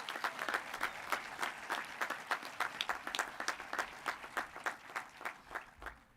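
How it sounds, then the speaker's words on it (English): A commencement audience claps in a lively, rhythmic burst, individual hand claps standing out as a regular pulse that carries on steadily and slightly thins toward the end. "we're going to applaud that one more time"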